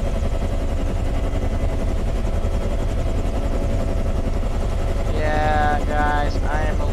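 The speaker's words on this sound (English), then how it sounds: "I am a little rusty at helicopters, though she'll fly pretty smooth" A Bell UH-1 Huey helicopter's rotor and engine drone steadily throughout in a flight simulator game, loud and close, with a brief burst of higher tonal whine near the end.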